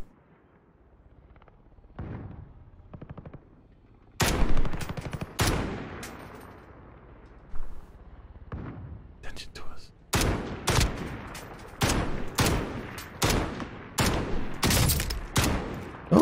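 Gunfire in Call of Duty's Plunder mode, sharp loud bursts in scattered groups, with a quieter patch in the middle and a dense run of rapid shots toward the end.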